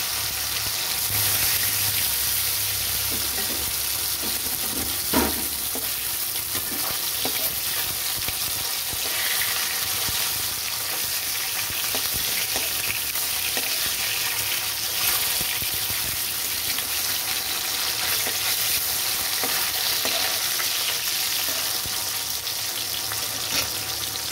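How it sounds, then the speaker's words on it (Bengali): Chitol fish frying in hot oil after being dropped into the pan, a loud, continuous sizzle and crackle with a few sharper pops and spits, steady throughout with no talking. "তেল গরম হয়ে গেছে, আমি ছেড়ে দিচ্ছি মাছটা"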